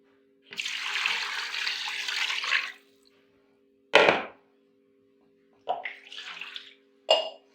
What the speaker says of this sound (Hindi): अब इसके अंदर हम ये पानी डालेंगे